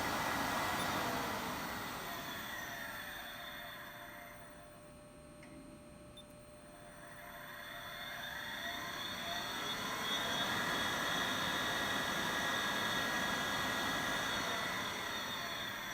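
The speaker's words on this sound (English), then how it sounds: "Everything runs really smooth with the spindle, as you'd expect." A 2005 Mitsui MSG-205MH surface grinder runs its spindle at about 3000 rpm, a smooth steady whine and broadband hum that dips slightly mid-way before settling back, with no talk.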